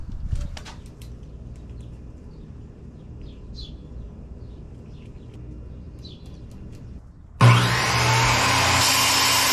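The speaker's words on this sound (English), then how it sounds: "now I'll cut those 2 pieces out of it and they'll fit right there" A power saw cuts wood pieces for a box truck camper wall. Quiet rustling and faint bird chirps come first, then the saw starts abruptly near the end as a loud, steady, close whine.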